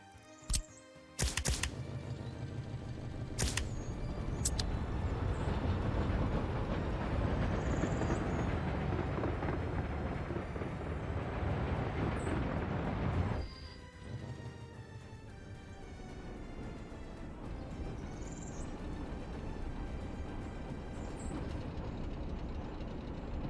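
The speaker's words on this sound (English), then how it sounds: "Train is waiting too long." A game train in Workers & Resources: Soviet Republic rumbles along continuously, with sharp clicks at the start and a dense rolling clatter that drops to a quieter steady hum partway through, with no talking.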